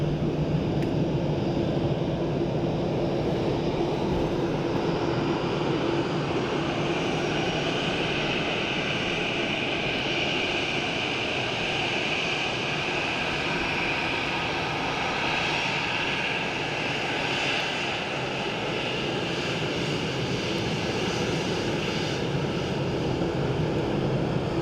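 A Turkish Airlines 800-series airliner at Dublin Airport gives a steady, fairly loud engine roar that holds without a break over about 25 seconds, with no talk.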